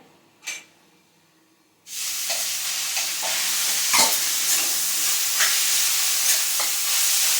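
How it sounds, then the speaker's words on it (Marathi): Grated carrot hits a little hot ghee in a thin-bottomed kadhai on a gas stove for carrot halwa. After a quiet start with one faint clink, a loud, steady sizzle breaks out and continues with soft stirring scrapes. "गाजरचा हलवा आहे हा थोडंसं तूप टाकलंय आणि परतून त्यात दूध टाकून मग शिजवून घेते"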